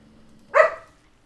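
A puppy gives one short, sharp bark, close and fairly loud, standing alone against a quiet room with a faint low hum underneath.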